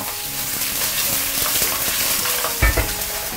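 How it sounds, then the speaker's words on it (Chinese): Fish bones frying in a hot wok over high flame in cooking oil with a little lard, a dense continuous sizzle with a brief louder splutter near the end, close up and alone. "好，这步将锅烧热之后呢，润一下，我们要煎个鱼骨。"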